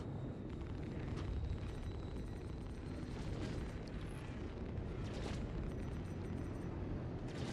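Missiles striking and exploding during a Star Citizen dogfight, a continuous low rumbling roar of blasts with crackling bursts, steady and heavy throughout, no talking.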